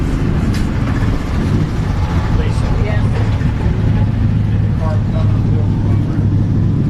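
First-generation Chevrolet Camaro drag car at Orlando Speed World, its engine a loud, steady rumble mixed with crowd and track noise while someone talks over it.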